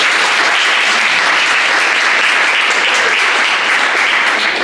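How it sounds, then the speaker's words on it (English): An audience at a startup community event gives a massive round of applause for the presenters, a loud, dense and sustained wall of clapping with no voices over it. "can we all please give them a massive round of applause?"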